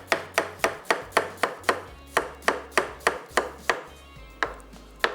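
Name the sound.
knife slicing onions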